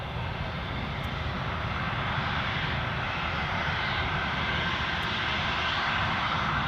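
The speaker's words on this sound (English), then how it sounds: "Airbus A321." An Airbus A321 passing at Edinburgh Airport, a loud broadband jet roar that holds steady and builds slightly throughout, heard alone from fairly close range.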